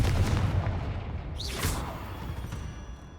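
A Confringo explosive spell goes off in the Hogwarts Legacy video game, giving a booming blast with a short whooshing burst partway through. The whole clip sits at a moderate level.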